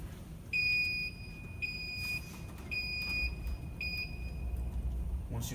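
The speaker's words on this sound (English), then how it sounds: "Once you clear the alarm" A building fire alarm sounds as a loud, piercing electronic tone repeating in four steady pulses of about a second each, with a low hum beneath and no talk.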